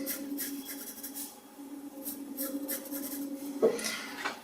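Pen scratching a line across paper during freehand sketching, a soft continuous scraping stroke close by with a small tap near the end, no talk.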